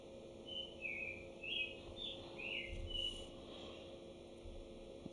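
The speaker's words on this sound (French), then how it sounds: "Puis les oiseaux, ils jacassent. Parfois, c'est vraiment fort." Birds chatter outdoors in July with a scatter of short, high chirps that come and go over a quiet background, faint and somewhat distant, with no talking.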